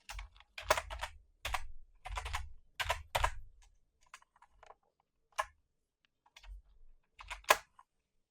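Computer keyboard typing in quick bursts of close clicks, then a few sparse single keystrokes, with no voice present.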